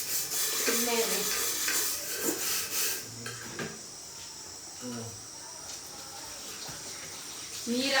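Tap water runs while dishes are washed at home, a steady splashing stream for the first few seconds that then drops to quieter trickles and faint clinks, with insect chirps faintly behind.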